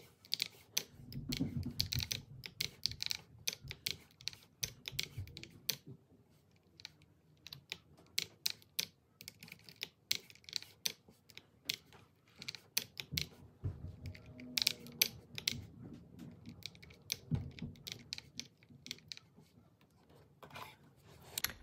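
Rapid bursts of key clicks from a computer keyboard, typed quickly in uneven clusters with short pauses, close and fairly quiet in a still room.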